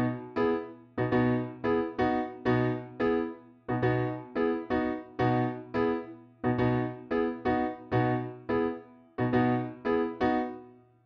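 Piano plays the intro of a song in clear, punchy chords, struck in a syncopated repeating pattern with short gaps, close and solo.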